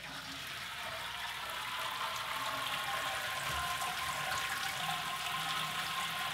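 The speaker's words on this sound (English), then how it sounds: "as you can hear, the grain is draining down, the malt pipe is emptying" Wort drains from the malt pipe of a Robobrew all-in-one brewer with a continuous rushing, trickling flow, steady and fairly close, with no speech.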